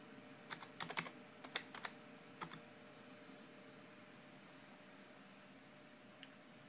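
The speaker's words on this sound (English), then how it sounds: "Now I need to type in my password." A password is typed on the keyboard of an AmigaOne X1000 computer running Debian Linux: a quick burst of faint, close key clicks in the opening two seconds, then quiet room hiss with one last light tap.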